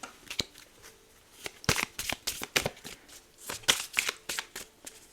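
A deck of Archangel Michael oracle cards is shuffled by hand, giving close, quiet bursts of riffling and flicking in an uneven rhythm with short pauses between handfuls.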